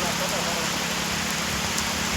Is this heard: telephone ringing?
no